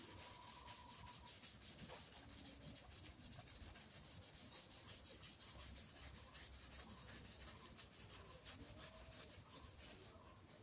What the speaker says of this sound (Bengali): এবার মাছটা এই যে খুকসার পাতা দিয়ে ঘষে নেই